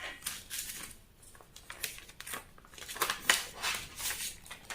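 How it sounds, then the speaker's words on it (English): Scissors cutting a paper neckline pattern, a series of quiet close snips and crisp paper rustles in an irregular rhythm, faint and alone. "let me cut only here and show you what it will look like."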